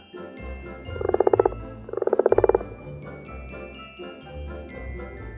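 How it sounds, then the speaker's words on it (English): Two loud rattling croaks from a frog, each lasting under a second, close by, with a soft background murmur between them. "The sound of frogs, croak."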